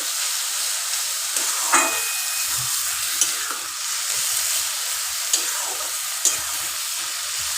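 Chopped bottle gourd sizzles and hisses steadily in a pan as its water cooks off, with a few light stirring clinks and scrapes.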